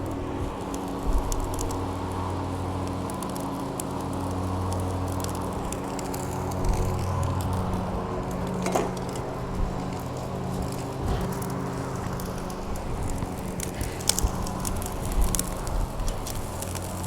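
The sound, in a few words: rack of lamb searing on a grill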